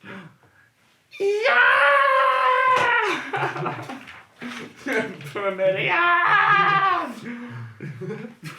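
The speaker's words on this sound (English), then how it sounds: "Presently, Marion's ghastly screaming stopped" Ghastly screams in a horror story, long wailing shrieks that rise and waver, loud and close, broken by short pauses and shifting pitch.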